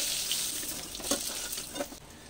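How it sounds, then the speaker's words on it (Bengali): Pieces of rohu fish fry in oil, a soft continuous sizzle close by with a few faint scrapes and stirring sounds rising briefly above the hiss. "মাছগুলোকে দুবারে আমি ভেজে নিলাম।"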